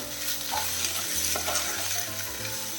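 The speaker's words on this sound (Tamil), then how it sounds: "சிக்கனுக்கு மேரினேட் பண்ணி வச்சுருக்கோமே அதை சேர்த்துடலாம். எல்லாத்தையுமா கிளறி விட்டுடலாம்." Marinated chicken fries in a pan as it is stirred, a close, even sizzle with soft scraping and shuffling of the pieces throughout.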